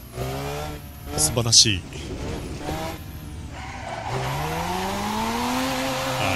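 A Mazda RX-7 FC3S drives in Assetto Corsa with a steady engine drone that rises in pitch as it accelerates, plus some tire noise, while someone talks over it.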